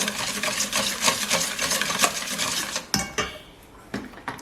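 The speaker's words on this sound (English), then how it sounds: "Mix it with a whisk." A whisk beats zucchini loaf batter in a bowl, giving a steady, close run of quick scraping and clinking strokes against the bowl, with a few sharper knocks toward the end.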